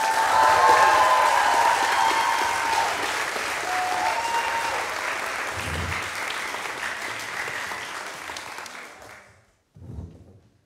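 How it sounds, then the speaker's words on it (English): A large concert audience claps steadily in sustained applause for a pianist, which fades out near the end, followed by a brief murmur. "we would like the audience to give a huge round of applause for our amazing pianist, Harrison, for learning this in only 3 days."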